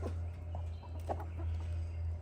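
Young pullets clucking softly outdoors in wet grass and clover, several short low clucks spread over a steady low hum.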